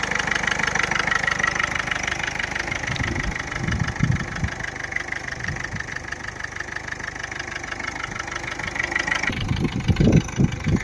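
A 2011 Ford Figo engine idling steadily with a constant mid-pitched hum and fine rhythmic pulsing, close and even for most of the stretch, then a brief louder, rougher burst near the end.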